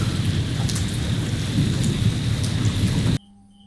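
Heavy rain pours and thunder rumbles in a cyclone storm at night, a dense loud roar of rainfall that cuts off abruptly to near silence at the end.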